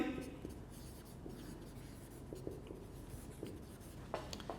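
Pen scratching across paper as someone writes by hand during a chemistry lecture, a steady faint scribble with a few sharper strokes near the end.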